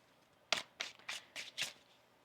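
Tarot cards are shuffled in five quick, crisp riffles, close by and otherwise quiet.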